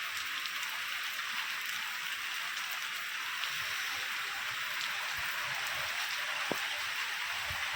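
Steady rain falls on surfaces outdoors, an even, moderate hiss of drops that stays constant throughout with no voices.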